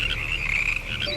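Frogs croak in a dense, steady chorus from a film scene. The buzzing calls run continuously and fairly loud across the whole short stretch, with no talking over them.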